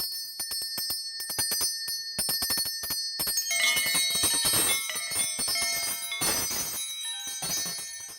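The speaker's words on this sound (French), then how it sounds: "La clochette tibétienne." A Tibetan bell rings in a magic act, struck repeatedly with bright, sustained metallic tones that overlap and shimmer, clear and close with no talking.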